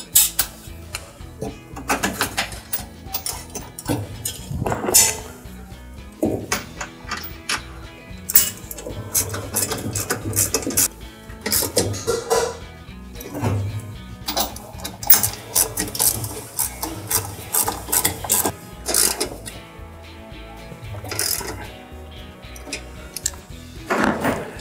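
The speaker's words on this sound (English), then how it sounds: "Now we're going to put the two 13 millimeter screws back in." A ratchet turns 13 mm screws into the motor of a Maytag washer, making repeated close clicking runs with short pauses and clanks of handling throughout.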